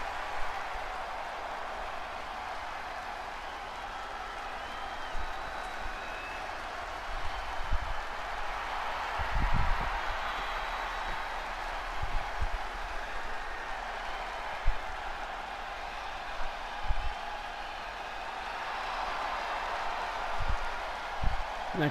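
Wrestling arena crowd in the WWE 2K20 video game, a sustained broad cheering roar with scattered thumps and impacts from the ring rising above it over about twenty seconds.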